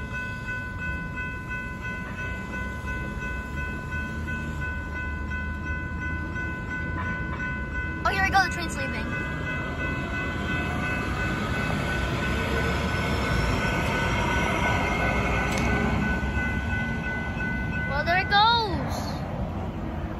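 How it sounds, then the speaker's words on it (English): An LA Metro K Line light rail train pulls out of Westchester/Veterans station in Inglewood with a long rolling rumble, steady tonal whine, and two brief high wheel squeals, while a crossing bell rings faintly in the background. "The train is now leaving."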